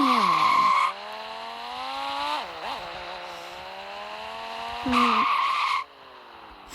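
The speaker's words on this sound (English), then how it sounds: "I wanna drive with the car." Car in the Vehicle Legends video game driving with a steady engine drone and a couple of sharp tire skids, loud and close, with brief shifts in pitch as it turns.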